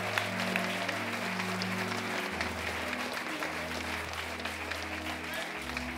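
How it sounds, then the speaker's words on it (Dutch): An audience at a live soul band performance in a café gives warm, sustained applause that stays close and even, with a steady bass note from the band humming underneath. "Maar geef ze nog een warm applaus."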